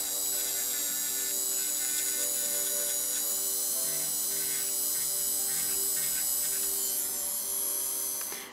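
An electric nail drill turns its bit at roughly 6,000 to 8,000 rpm against fingernails, giving a steady, close, high-pitched motor whine that holds level almost without a break before cutting off at the end.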